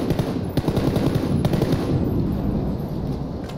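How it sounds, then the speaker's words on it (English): Rapid automatic gunfire in the video game PUBG, a dense burst of sharp cracks in quick succession that carries on loudly for a few seconds without pause. "he's shooting at me"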